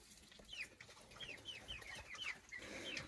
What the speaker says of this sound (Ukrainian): Ось молоденькі курочки.